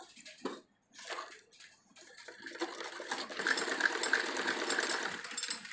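A sewing machine stitches a salwar to its waist belt, running in short whirring bursts and then a longer steady rattling run, close up with no talking.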